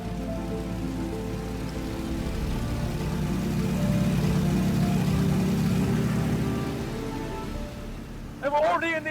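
Fairey Swordfish biplane flying over Yeovilton Airfield, its engine a loud, steady broadband drone with a harmonic hum that holds throughout and briefly wavers near the end.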